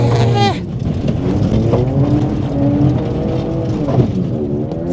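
A Toyota GR Yaris revs hard and accelerates on snow at Naeba, its engine note climbing through gear changes close by, with people talking inside the car over the engine.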